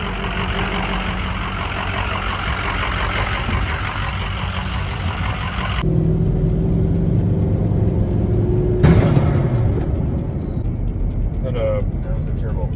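A Ford Excursion's turbocharged engine with a leaking intercooler pipe runs loud and close, with a steady rumble shifting in tone midway and a whooshing rise and fall near the end; people talk over it.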